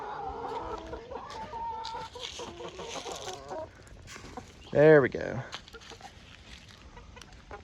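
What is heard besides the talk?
chickens clucking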